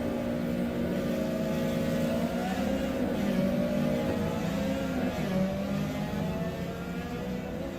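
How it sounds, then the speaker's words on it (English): Race car engine in the racing game Assetto Corsa Evo, a loud, steady droning growl at near-constant revs, sustained and slightly fading at the end, no talk over it. "These cars are loud."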